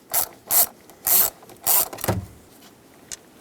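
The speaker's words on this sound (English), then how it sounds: "since I have this little ratcheting bit driver, I'm going to just use this because it fits a lot better" A small ratcheting bit driver clicks through four distinct bursts while backing out T25 bolts on a 2007-2014 Chevy Silverado 2500HD combination switch, followed by a softer rattle and a faint final click, close and clear.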